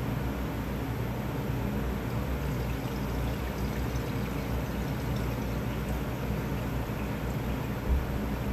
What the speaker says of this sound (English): We just flushed the toilet.